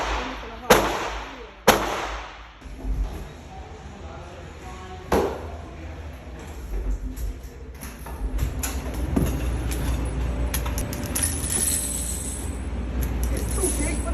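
Shots from a .357 revolver at a gun range: three sharp, loud cracks spaced about a second apart early on, followed by another single report, with voices talking over the background rumble.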